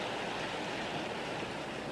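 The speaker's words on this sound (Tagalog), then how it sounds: "Mahangin yata, mahangin." Steady broadband rushing noise of strong wind buffeting an outdoor tennis court at the Cincinnati Open, continuous and fairly loud with no voices.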